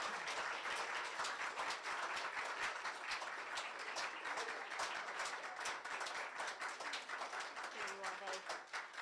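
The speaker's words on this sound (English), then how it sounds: "please give a round of applause for Dara as he accepts his award" An audience at an annual meeting applauds as Dara accepts his award. The clapping is continuous, dense and fairly distant, holding a steady level for several seconds.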